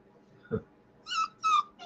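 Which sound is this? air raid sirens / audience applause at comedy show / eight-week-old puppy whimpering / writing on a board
eight-week-old puppy whimpering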